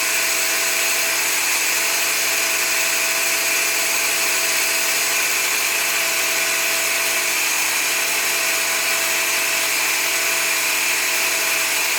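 A car engine idles at cold start before warm-up, a steady, loud mechanical whir and hiss with faint ticking running unbroken throughout, no talking.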